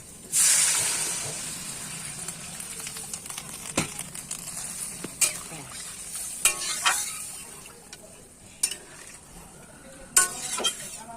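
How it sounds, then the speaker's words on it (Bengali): Water hits hot frying masala for a fish curry, bursting into a loud hiss that fades into a quieter bubbling sizzle with scattered crackles and stirring clinks. "এবারে জল দিয়ে দিচ্ছি"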